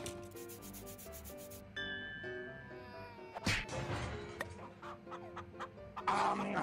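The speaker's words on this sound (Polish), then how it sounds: "kurczak czy kaczka, co to był? Kurczak to był, tak?" A chicken clucks in a video game, faint and scattered among scraping, rubbing game sounds and occasional clicks, with no talk over it.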